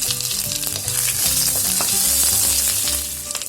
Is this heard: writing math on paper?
no